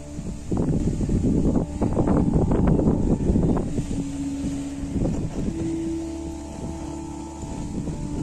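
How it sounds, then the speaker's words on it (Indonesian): Strong wind gusting across a mountain slope on Mount Andong, a loud, steady roar with buffeting microphone rumble that rises and eases throughout, with no voices. "Entah kenapa angin begitu sangat kencang tiba-tiba"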